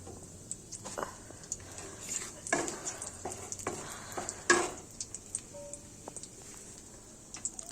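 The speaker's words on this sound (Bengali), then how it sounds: "তেলটা গরম হয়ে গেছে, এবার একটু ভাজছে" Garlic, nigella seeds and green and dried chillies fry in hot oil for a Bengali greens dish. Scattered crackles and sharp pops sound near, over a low sizzle, with irregular bursts spread across the stretch.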